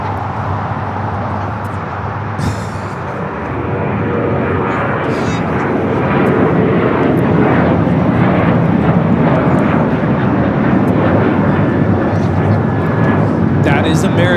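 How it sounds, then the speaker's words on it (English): An American Airlines Boeing 737-800 takes off at LAX, its jet engines building from a steady roar to a louder, sustained broadband thunder over about fourteen seconds, with faint clicks on top. "American Airlines 1979 taking off to Chicago on the 737-800"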